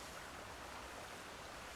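A waterfall in the video game Crimson Desert pours as a steady, soft, hissing water rush, thin and uniform throughout, with no voices.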